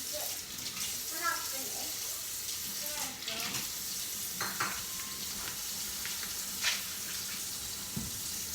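Sugar caramelizing and sizzling in a pan for Vietnamese caramelized yellow pompano fish, a continuous bubbling hiss with occasional swirling scrapes, close and steady.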